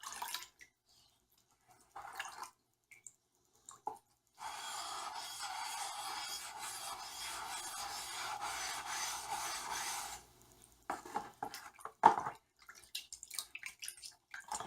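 Spokeshave blade being sharpened on a Japanese ceramic water stone, a steady wet rasping scrape lasting several seconds, close and fairly quiet, with a few short rubbing strokes and small knocks before and after.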